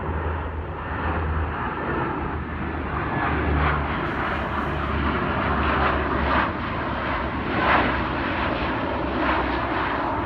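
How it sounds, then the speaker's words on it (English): A large military transport plane passes overhead, its broad, steady engine roar filling the whole stretch, loud and continuous with slight swells as it flies by. "I think that was one of those monster transport army planes or whatever they are"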